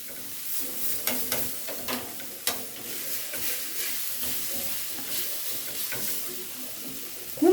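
Grated potatoes and onion frying in a pan, stirred and turned with a spoon, giving a steady close sizzle with scraping stirs and a few sharp clinks.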